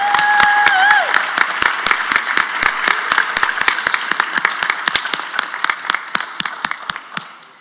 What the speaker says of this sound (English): let's give a big round of applause to all the graduates.